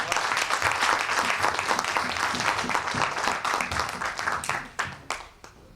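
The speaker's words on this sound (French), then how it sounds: "Applaudir le Seigneur pour nous, bien-aimé." Church congregation applauding together, a dense, loud wash of many hands clapping that holds steady and then thins out and fades toward the end.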